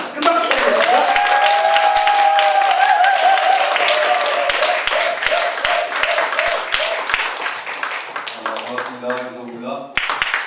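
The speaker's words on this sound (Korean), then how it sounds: "큰 박수 부탁드립니다." Applause from a seminar audience welcoming the author onto the stage, clapping steadily under a host's amplified voice, with a musical tone running through it and fading near the end.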